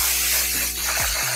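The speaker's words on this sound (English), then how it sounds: "I am going to spray the wig cap as well" An aerosol can sprays onto a wig cap in one continuous hiss lasting about a second, close and fairly loud, with no talking.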